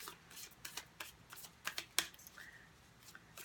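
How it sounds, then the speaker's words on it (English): A deck of cards is shuffled indoors in a quiet room, giving a few quick riffling bursts and soft flicks, close and fairly faint. "I will go ahead and begin shuffling the cards"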